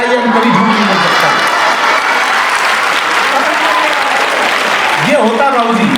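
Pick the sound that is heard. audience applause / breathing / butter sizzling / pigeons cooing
audience applause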